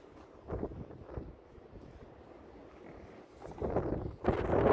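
Wind blows outdoors, buffeting the microphone in uneven low rumbling gusts that swell and fade, growing stronger and louder toward the end.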